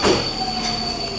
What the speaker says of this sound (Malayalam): അങ്ങനെ നമ്മുടെ ഹംഗറിയിൽ വന്നിട്ട് ആദ്യത്തെ മെട്രോ,